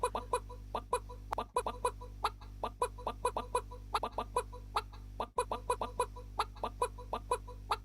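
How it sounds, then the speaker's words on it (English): Clucking chickens in a small 3D video game made for a game jam, a rapid, busy stream of short clucks repeating over a low steady hum. "Oh, there's a lot of chickens here."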